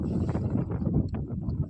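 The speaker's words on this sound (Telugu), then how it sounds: "చాలా గాలి వస్తుంది. మీకు కూడా సౌండ్ వినబడుతున్నట్టుంది." Strong wind gusts across open farm fields near cotton and paddy land, making a steady, close, rumbling buffet against the microphone with no pauses.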